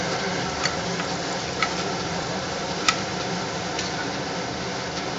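Egg curry ingredients with salt and chilli powder frying in a pan, a steady close sizzle throughout with a few small sharp ticks and pops from stirring.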